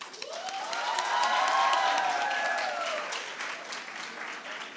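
Graduation ceremony crowd at a high school applauds teachers and staff, a continuous wash of clapping with a voice speaking over it, swelling in the middle before easing off.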